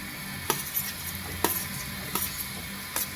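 Partly cooked potatoes sizzle in a frying pan with fried cashews for a prawn curry, with a steady crackle broken by four sharp scraping stirs of a spatula at regular intervals.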